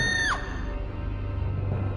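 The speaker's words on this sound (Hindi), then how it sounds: "दूर से औरत की दर्दनाक चीख सुनाई" A woman's painful scream far off in a dark forest at night, as a short high wailing cry that bends sharply downward, then gives way to a low rumbling wind.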